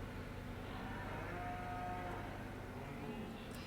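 Cattle mooing in the farming game Farming Simulator 17, a steady low bovine drone with a drawn-out moo at moderate level, no talking over it.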